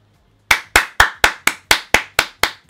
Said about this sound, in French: Je m'auto-applaudis.